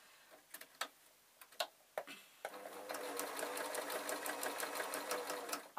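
A domestic sewing machine stitches fabric for a Christmas card, starting with a few sharp clicks and taps, then settling into a continuous close whirring hum for several seconds.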